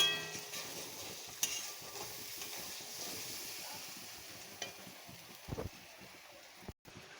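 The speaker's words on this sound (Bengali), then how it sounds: "দিয়ে মশলাটা ভালো করে কষিয়ে নেব।" Ground spice paste for a fried-masala soybean curry cooks in a pan with a little water, giving a soft continuous sizzle and hiss under a few scraping stirs and clinks, close by and fairly quiet.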